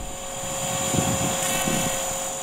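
An EXI 450 flybarless RC helicopter with Smart Model Scale 450 weighted blades whines steadily in forward flight outdoors, a sustained high-pitched motor tone over a fluttering rotor hum, fairly close and continuous.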